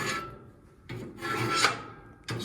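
A raking utensil is scraped across a wood cookstove grate in three rasping strokes, each a close, gritty scrape separated by short pauses.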